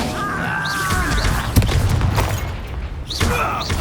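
An Incendio fire spell erupts in a Hogwarts Legacy duel, a sudden bursting blast cutting through ongoing magical whooshes and effects, with a second flare of sound near the end.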